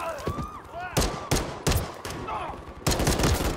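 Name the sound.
gunfire, from Modern Warfare III video game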